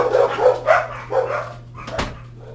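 Dogs bark indoors in a short burst of several yips and barks, fairly close, over a steady low hum, with no talking.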